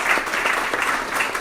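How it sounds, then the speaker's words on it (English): An audience at a Startup Grind event in Tallahassee claps together in a short, even burst of applause that runs steady for about a second and a half. "let's clap that up"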